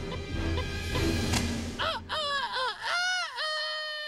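A rooster in an animated film crows in several loud, wavering, drawn-out calls that follow a noisy, clattering passage.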